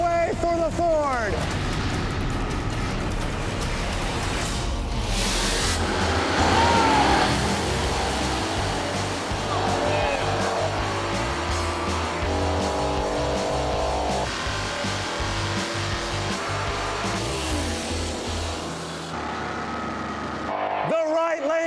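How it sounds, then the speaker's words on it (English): Drag race cars, a Mopar and a Ford, roar continuously through a burnout at ZMax Dragway, loud and sustained for about twenty seconds, with engine noise dense and steady under crowd and announcer-style background. "they can give us the burnout of a lifetime right now"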